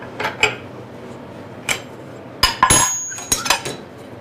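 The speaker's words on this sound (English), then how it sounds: "So I'll have to pop that clamp loose again." A metal clamp on a bending brake being built is knocked loose, giving a few sharp metallic clanks and clinks spaced apart, with a cluster of bright ringing hits near the end.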